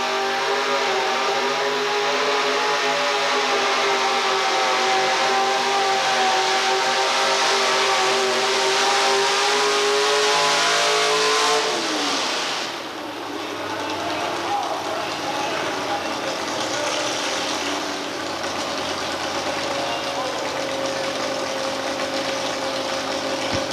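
A modified pulling truck revving at a 1987 outlaw truck pull in Murray, Kentucky: a loud sustained engine roar climbing in pitch, dropping abruptly midway, then droning on at a lower steady level, with an announcer faintly under it.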